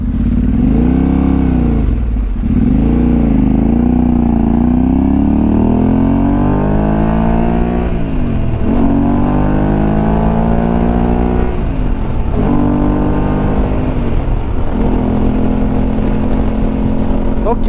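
A loud Yamaha Tenere 700 motorcycle engine drones steadily at highway speed, its pitch rising and falling through gear changes, with heavy wind rush throughout.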